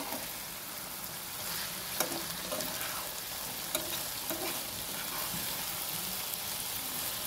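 Mola fish and potatoes frying in oil in a pan, a continuous soft sizzle with a few light knocks and scrapes as the pieces are turned, no voices.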